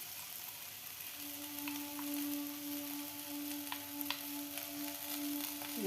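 Capsicum frying in a pan with chili powder and salt, a continuous soft sizzle with light crackles and a steady tone running underneath, heard close and alone.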